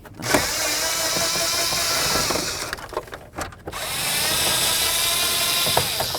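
Steering column screws on a Chevy S-10 pickup are backed out with a power tool, giving a loud, close, continuous whirring run that halts briefly with clicks and clatter, then resumes.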